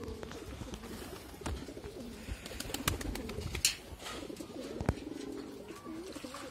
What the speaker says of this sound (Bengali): আনন্দের সহিত কবুতর এখন সব গোসল করবে, একটার পর একটা নামবো, একটা উঠবো।